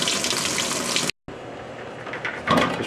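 Water gushes steadily out of a copper plumbing pipe being prepared for soldering, a loud continuous splashing rush that cuts out briefly, then resumes and swells near the end.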